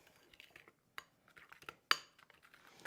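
A spoon stirs a no-bake dip in a bowl, giving sparse, quiet scrapes and light clinks against the dish, with one sharper knock standing out partway through and no talking.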